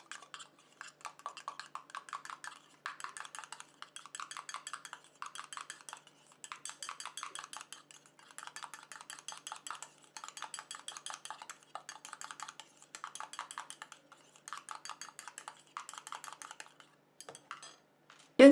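An anti-wrinkle lifting serum is stirred in a small container, with quick rapid clicking and tapping strokes in close bursts separated by brief pauses.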